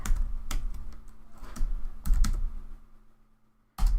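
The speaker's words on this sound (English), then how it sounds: "Which mechanical keyboard did you get? I got a DAS keyboard." Sharp clacking keystrokes on a Das Keyboard mechanical keyboard, irregular bursts of typing up close, with a brief pause near the end before more keys are struck.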